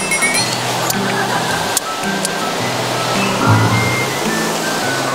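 Ocean surf rushes and churns steadily at close range, a loud continuous wash of breaking waves with no voices over it.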